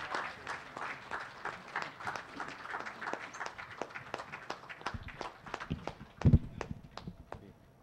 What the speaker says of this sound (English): please help me welcome to the stage with a big round of applause, Senator Sherwin Gatchalian